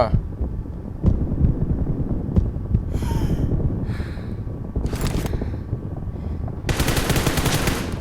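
Machine gun fire rattles through a PUBG Mobile match as a continuous rapid throbbing stream of shots, with brief louder bursts and crackling impacts layered on top.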